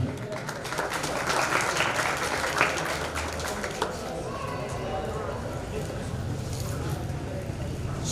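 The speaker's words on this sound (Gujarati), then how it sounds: "આપણે જોરદાર તાળી વધાવશું." A crowd at a sneh milan community gathering claps together in a continuous, fairly loud burst, while an announcer's voice carries over the applause.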